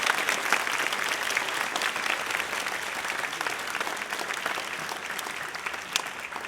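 A room full of people gives sustained, dense applause for eighth grade teachers and staff at a school awards ceremony. The clapping is loud and even, fading slightly toward the end, with no voices over it.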